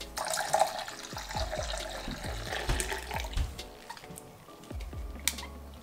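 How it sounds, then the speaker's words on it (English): Pink-dyed water is poured into surfactants while mixing foaming liquid hand soap, giving a close splashing, gurgling trickle with many small clicks and knocks of containers, with no talking. "So I'm going to add this colored water to my surfactants."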